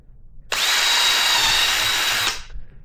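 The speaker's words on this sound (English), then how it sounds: "I'll drill approximate center again." A power drill bores a hole through a plastic rat bait station, one steady high whine lasting about two seconds at close range and then cutting off, with no talking.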